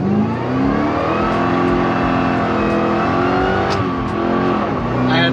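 A supercharged, nitrous-fed Ford Crown Victoria engine roars under full load on a dyno in first gear, a loud, sustained, rising rev with wheels spinning, close and dominant throughout.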